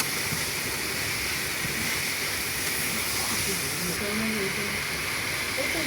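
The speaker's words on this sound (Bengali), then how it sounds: "এবার ভালো করে কষাইয়া নাড়াচাড়া দিয়া নাড়তেই থাকেন নাড়তেই থাকেন" Beef head skin meat fries in a pot while being stirred, giving a dense, continuous hiss and crackle that runs evenly throughout, with a voice faintly audible underneath.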